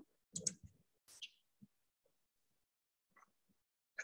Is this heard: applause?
no